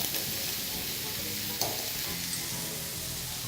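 Olive oil and a little butter sizzle steadily in a pan, a dense, even crackle running loud and close for the whole stretch, with a faint clink of utensils partway through.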